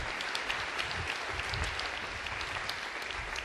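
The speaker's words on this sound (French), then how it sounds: "Bravo, on peut les applaudir," An audience at a youth debate tournament final applauds the team, producing a sustained, dense wall of clapping from a large crowd, steady and somewhat distant throughout.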